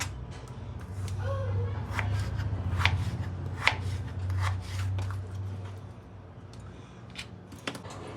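A knife cuts potatoes into long finger chips on a board, giving a series of crisp, irregular chopping taps close by over a low background hum.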